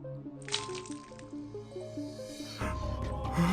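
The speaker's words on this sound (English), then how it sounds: "The pink fluid splashed against the desk." In a visual-novel game, vomit splashes onto a desk: a wet squishing, dripping burst that spreads out, then a louder gushing liquid sound swells near the end, with no talk.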